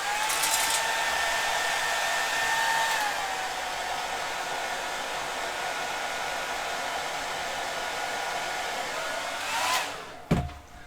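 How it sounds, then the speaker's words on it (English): A handheld hair dryer blows on fresh paint on a scale model, a steady loud whirring rush running for about ten seconds, briefly shifting in pitch, then clicking off with a thump. "I'm just going to flash it off with a hairdryer."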